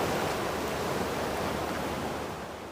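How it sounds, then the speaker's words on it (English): Steady roar of spillway water pouring out of Big Spirit Lake on a wet, gloomy day amid flooding in Okoboji, a dense continuous rush heard up close and loud, with no voices. "this is the spillway water coming out of Big Spirit Lake"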